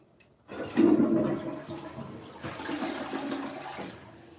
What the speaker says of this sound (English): Here's the small flush.